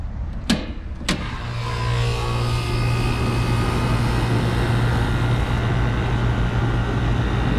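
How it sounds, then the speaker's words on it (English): An old HVAC package unit runs with its compressor and condenser fan motors going: two sharp clicks as it starts, then a steady loud mechanical hum and whir with a low constant drone, close by and with no talking. "compressor sounds good. Got the fan motors running. The condenser fan motor is running."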